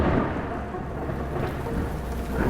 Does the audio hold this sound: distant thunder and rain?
yes